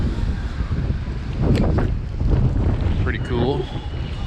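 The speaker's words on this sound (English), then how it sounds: "as soon as I turned the corner, the wind kicked up as well." Gusty wind buffets the microphone near Swansea castle in Wales, a loud rumbling roar that swells and eases in waves, with a brief spoken remark over it.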